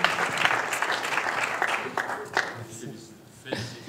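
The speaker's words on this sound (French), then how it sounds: "On peut les applaudir." Audience applause at the 2013 e-health trophies award ceremony, a steady burst of clapping from a crowd that gradually thins and softens toward the end, with a voice coming in at the close.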